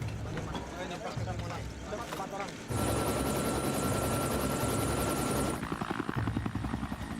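A helicopter in flight during an air crash search near a mountain: a loud, continuous rotor drone with a whining tone, mixed under a voice speaking and background music.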